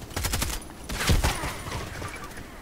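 Vityaz SMG fire in the video game Contract Wars: quick bursts of crackling automatic shots, moderately loud, with a rapid rattle early on and a heavier thump near the middle.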